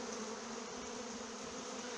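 Dense, steady buzzing of honey bees at a hive while colonies are combined, a close, continuous hum with no pauses and no voices.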